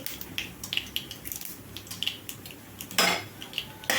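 A spoon scrapes and clinks against a pan while a tempering of mustard seeds, chana dal, urad dal, cumin and a broken dried red chilli is stirred for upma, with light metallic taps and a brief sizzling burst.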